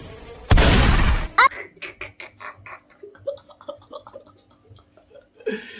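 One sharp, loud gunshot-like blast, followed by a burst of rapid clicks and clatter fading into quieter scattered ticks.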